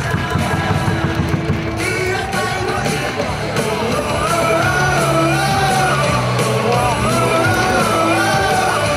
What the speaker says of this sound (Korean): 경쟁의 박수 부탁드립니다.